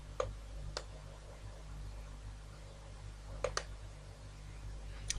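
Sharp, isolated mouse clicks, sometimes in quick pairs, sound over a low steady hum, close and fairly quiet, with long gaps between them.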